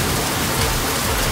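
Heavy rain pours down steadily, a dense, loud, continuous hiss with no pauses, close by and on its own, with nobody talking.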